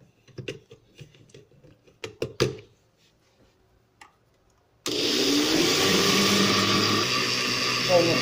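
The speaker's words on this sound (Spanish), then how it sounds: "Lo llevamos todo a la licuadora, lo ponemos a licuar" A loud, steady blender roar starts partway through and runs continuously to the end, preceded by scattered clinks and knocks of ingredients, including butter, being added for a sweet rice cake batter.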